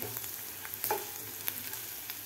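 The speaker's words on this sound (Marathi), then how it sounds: "थोडंसं आपल्याला कांदा परतून घ्यायचा आहे" Onion sautés with asafoetida in a pan for a village-style steamed brinjal dish, giving a steady close sizzle with a few soft stirring scrapes.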